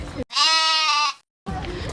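A goat gives a single loud, close, wavering bleat lasting about a second, with people talking before and after it on a vlog outing in Kochi.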